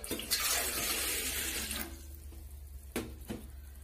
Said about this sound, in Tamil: ஜவ்வரிசி வேகிறதுக்கு தண்ணி வந்து பாத்திரத்துல ஆட் பண்ணிடலாங்க.